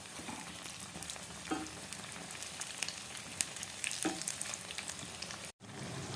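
Poha sakkarai pongal frying in a pan, a soft continuous sizzle with a couple of gentle scraping turns as it is flipped, ending in a brief dropout before the frying resumes, no talk.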